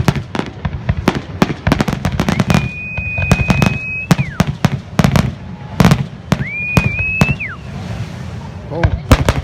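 Fireworks bursting over a beach at night, a dense run of loud booms and crackling pops close by, with rising whistles streaking through the barrage.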